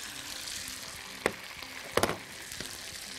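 Fava beans frying with caramelized onion in a pan, a steady soft sizzle with a few sharper crackles and pops, close and alone with no talk.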